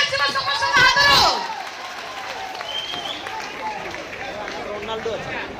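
Audience applause at a live Odia jatra stage performance, starting with a loud burst of clapping that fades after about a second into a steady crowd murmur with scattered clapping.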